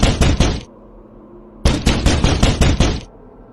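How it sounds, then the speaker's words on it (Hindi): Loud, sharp knocks on a house door at midnight, a quick burst of three raps, a pause, then a longer rapid run of about seven, close and echoing briefly in a quiet space. "आधी रात को उन्होंने उसके घर का दरवाजा खटखटाया"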